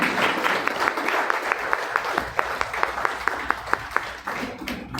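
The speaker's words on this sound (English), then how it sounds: "Please give a big round of applause for Sri Hariji." Audience applause at a talk event on Chanakya's Neeti Shastra, a crowd of steady clapping with sharp individual claps standing out, fairly close and sustained, fading slightly near the end.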